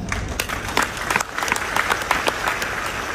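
An audience claps steadily for a few seconds, a close, moderately loud patter of many hands with individual sharp claps standing out.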